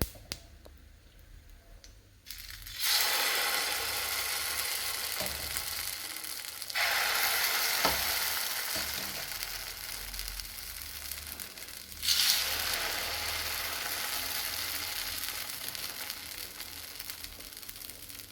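Wheat pancake batter cooking on a low-flame pan, soft sizzling that swells in three separate bursts after a quiet start, each fading gradually, close with no talk.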